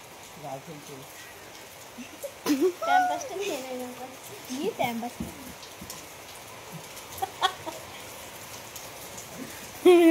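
Rain patters steadily across the whole clip while people talk and call out over it.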